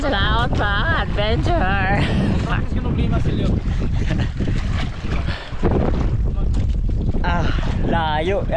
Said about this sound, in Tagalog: Laki yung alon. Lakas yung hangin.